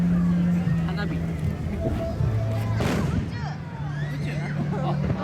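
Fireworks at the Awaji Island fireworks festival in Japan, booming from a distance with one sharp, louder burst midway, heard over a noisy outdoor crowd with people talking nearby.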